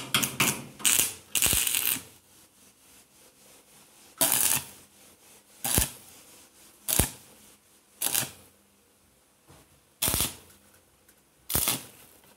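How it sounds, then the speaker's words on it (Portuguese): Arc welding tack welds on metal tubing with a thin 2 mm 6013 electrode: about nine short, loud crackling bursts come in an irregular series, separated by quiet gaps. "Vamos lá, vamos soldar aqui."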